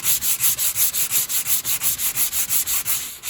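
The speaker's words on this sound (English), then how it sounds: "we're just going to keep sanding this until all that comes out." Steady rhythmic sanding of a 2010 Acura RDX body panel, quick back-and-forth strokes of abrasive rubbing a hard surface at an even pace, close and fairly loud with no voices.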